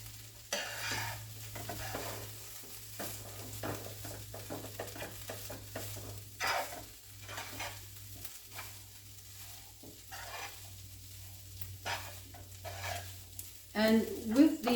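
Veggie ground for a Tex-Mex dip cooking and being stirred in a pan: a low sizzle runs throughout beneath irregular spoon scrapes and taps, fairly quiet and close, with a louder clatter near the end.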